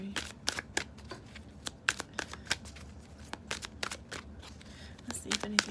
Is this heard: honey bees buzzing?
no